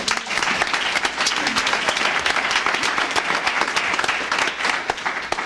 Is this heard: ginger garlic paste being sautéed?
no